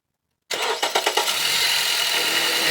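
Dodge vehicle engine cranking with a few rapid starter pulses, then catching and settling into a steady loud idle, heard up close.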